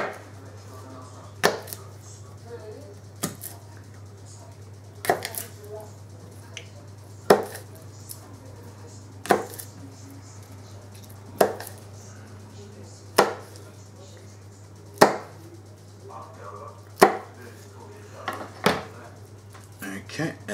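Knife chopping through garlic cloves on a cutting board, about a dozen sharp, evenly paced taps spread out one after another, close and fairly loud over a steady low hum.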